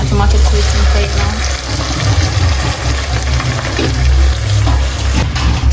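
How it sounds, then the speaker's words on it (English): Tomato paste frying in a pan with sautéed onion and prawn, a loud, steady sizzle and crackle close up, with a constant background hum running underneath. "So I'm gonna let this fry now."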